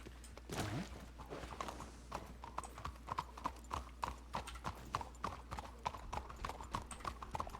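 Horse hooves clip-clop at a steady walking pace in the WildRP western role-play game, fairly close and crisp, with a short whinny near the start.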